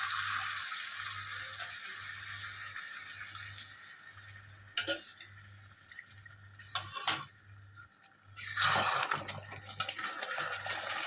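Meat for Bengali-style kosha mangsho frying in plenty of oil in a pan, a steady close sizzle and hiss with a low hum beneath and a few louder bursts of spatter and clatter.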